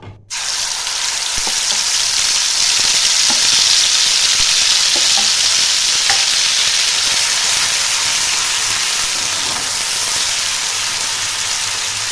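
Spice paste for a Bengali white potato dum fries over a medium-low flame while being stirred in a pan, giving a loud, steady hiss and sizzle with light scraping taps of the spoon throughout, and no voices.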